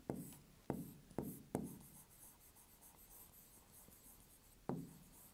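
Pen on paper during a Class 6 maths lesson on number conversion: several sharp tapping onsets and short scratchy strokes at close range, with quiet gaps and no speech.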